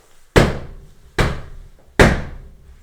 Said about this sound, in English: 3 bangs on the kitchen wall